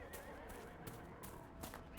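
A horse neighs in Dragon Age Inquisition, a steady game soundscape carrying a few brief whinny bursts alongside faint hoof clatter.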